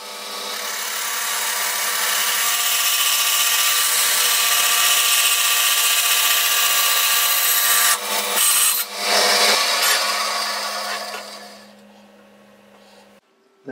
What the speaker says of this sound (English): All I need to do is split that by using the bandsaw to cut across.